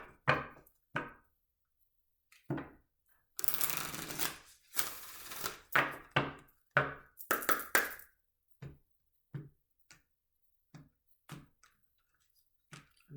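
Moonology oracle cards being shuffled and handled in a dry run of papery slaps and riffles, with a dense burst midway among scattered taps and knocks, close and fairly quiet with no talking.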